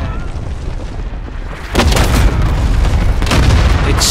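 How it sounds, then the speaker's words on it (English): Bombs explode in Call of Duty (2019) on the Shipment map, where a loud booming blast bursts in and leaves a dense rumbling roar, followed by another hit near the end. "It's bombs everywhere."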